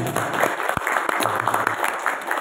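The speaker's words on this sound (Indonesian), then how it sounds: "Tepuk tangan untuk adik-adik semua ya." Applause for mosque youth at a talk on nationalist character, a steady burst of many hands clapping that fills the room, with a voice briefly heard under it.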